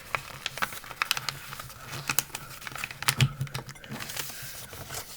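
Paper being folded into an airplane wing, with a run of dry crinkles, creases and light taps scattered across the few seconds, close up and fairly quiet with no voices.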